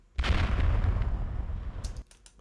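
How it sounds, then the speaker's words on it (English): A heavy explosion for film sound design bursts in abruptly with a deep, dense roar, then rumbles and crackles with debris before cutting off sharply after about two seconds. "Explosion 1."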